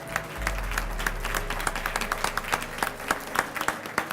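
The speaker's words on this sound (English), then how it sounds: "If we could hold the applause for the end" Sustained audience applause at an awards ceremony as honorees stand, a dense, steady patter of many hands clapping, fairly close and loud throughout, with no talk over it.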